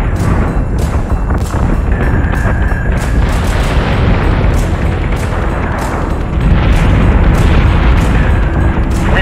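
Ship weapons fire and heavy explosions pound away in Battlestar Galactica Deadlock, a loud, constant space-battle roar with repeated booming bursts stacked over one another and no letup.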